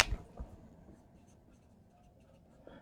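Short scratchy strokes of writing on a board during a classroom lesson, faint and intermittent against a quiet room.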